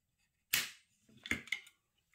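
A restored and rust-cleaned vintage Browning Citori shotgun's trigger and action snapping, one sharp crisp click followed by a quicker double clack, close up in a quiet room.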